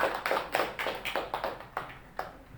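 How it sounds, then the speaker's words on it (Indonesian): Scattered hand claps from a church congregation during an Indonesian worship service, a handful of separate sharp claps spread over a couple of seconds, fairly quiet and loosening toward the end. "Coba kita kasih aplaus yang baik untuk Tuhan."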